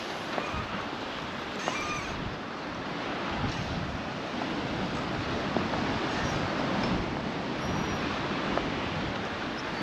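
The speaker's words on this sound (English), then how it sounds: "Big waves crashing on the sand there." Big waves crash and wash up onto the sand at Magaluf, Mallorca, as a steady, loud roar of surf with wind noise buffeting the microphone throughout.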